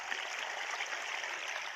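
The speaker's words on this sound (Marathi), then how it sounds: "त्या पाईपाजवळ पाणी चालू आहे आपलं" Irrigation water runs steadily from a pipe into a wheat field, a continuous soft rushing and gurgling heard from a short distance with no voices.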